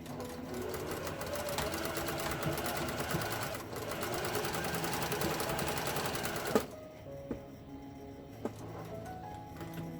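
A sewing machine runs a long continuous stitch along the bottom seam of a fabric face mask, then stops abruptly, leaving a few faint clicks and handling noises in the quiet afterward.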